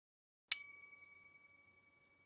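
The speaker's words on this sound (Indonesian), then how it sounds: "Suara notifikasi HP berbunyi." A phone notification chime in a Roblox story scene: one bright, sharp ding that rings out with a long metallic decay and fades over about two seconds, heard alone with no talk.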